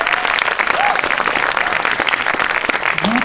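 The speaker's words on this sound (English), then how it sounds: "So please give a round of applause for Annie." Audience applause for a speaker at the Indie Galactic Space Jam in Orlando, Florida: a steady, dense wash of clapping from a crowd, continuous and fairly loud for the whole stretch, with faint voices mixed in.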